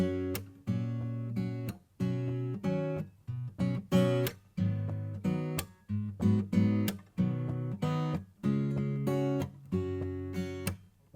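Acoustic guitar plays the verse and intro of a song, a rhythmic pattern of strummed chords punctuated by sharp percussive muted hits, steady and close with no talking.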